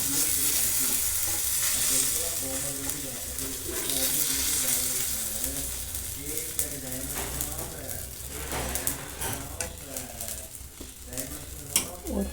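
Ragi adai batter, a finger millet flatbread, cooks in oil on a hot pan with a steady, close crackling sizzle throughout, while someone talks over it.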